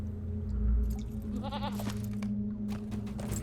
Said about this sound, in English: Let me get on my goat real quick.